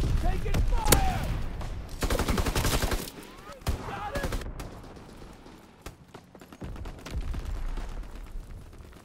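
Bursts of automatic gunfire and single shots from a World War II shooter, Call of Duty: WWII, crackle in dense rapid volleys with brief lulls, loud and close amid battlefield noise.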